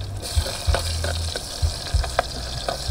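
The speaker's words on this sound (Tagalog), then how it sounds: "igisahin na po natin. Bawang," Garlic and onion sauté in a hot pan for a mung bean soup, sizzling steadily with repeated scraping stirs of a utensil against the pan, close and fairly loud.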